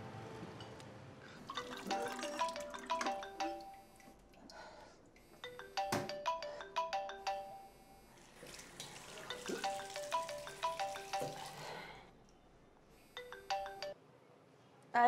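Mobile phone ringtone in a home: a faint, repeating electronic melody plays in bursts with short pauses, fairly quiet and distant, with light rustling in between and no talking.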